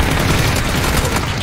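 In a multiplayer shooter video game, a grenade blast and dense gunfire fill a short burst of loud, continuous, crackling noise with no voices.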